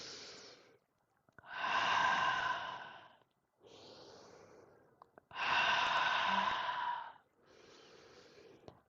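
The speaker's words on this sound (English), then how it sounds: "We'll close this circle with 3 deep breaths" Three slow, deep breaths, each a long airy inhale and exhale close to the microphone, separated by short quiet pauses, with no talking.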